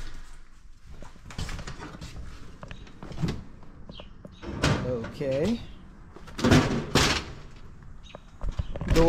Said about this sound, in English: Door's a little old and loud,